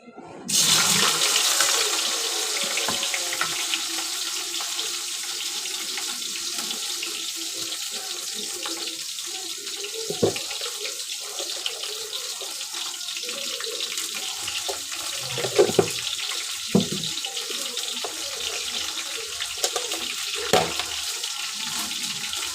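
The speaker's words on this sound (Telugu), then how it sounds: "ఆయిల్ అయితే వేడి అయిపోయింది కాకరకాయలు అయితే ఆయిల్లో వేసుకుంటాను" Bitter gourd pieces hit hot oil and set off a sudden, loud, hissing sizzle that carries on steadily, with a few brief clatters as the pan is handled.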